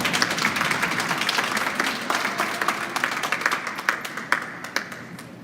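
An audience at a school event claps steadily in continuous applause, many hands close and fairly loud, with scattered sharper claps standing out toward the end.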